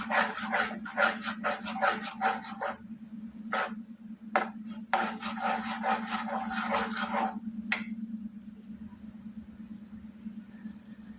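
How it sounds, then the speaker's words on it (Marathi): A spoon stirs spices into tomato sev bhaji in a pan, making repeated short scraping strokes in quick bursts with pauses, over a constant low stove or fan hum; moderately close and not very loud. "चांगलं असं मिक्स करून घ्यायची आहे"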